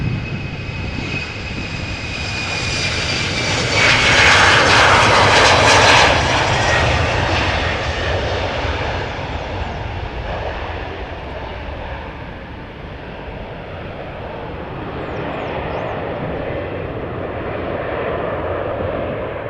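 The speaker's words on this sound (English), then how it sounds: "Embraer already taking off." An Embraer jet airliner takes off at Amsterdam Schiphol Airport, its engines building to a loud, broad roar with a high whine that peaks mid-clip, then eases into a sustained, fading rumble as it climbs away.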